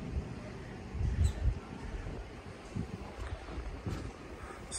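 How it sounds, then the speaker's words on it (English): Gusty wind buffeting the microphone high up on a terrace in Lagos, Nigeria, low rumbling bursts rising and falling over a few seconds, no talking. "Yeah, it's quite windy up here."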